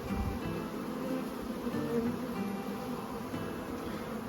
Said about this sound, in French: Regardez ça. Un petit essaim sympa.